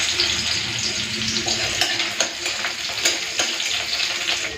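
Crushed garlic, then dried red chilli, frying in hot oil for sautéed Malabar spinach, a loud, steady, close sizzle with crackling bursts and occasional stirring scrapes throughout.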